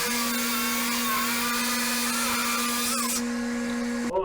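Masterforce track saw cutting through plywood, its motor holding a steady high whine with a broadband cutting roar for about four seconds before spinning down abruptly.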